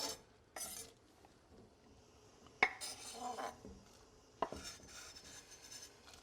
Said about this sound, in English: So I'm gonna put these snap peas in this pot of boiling water.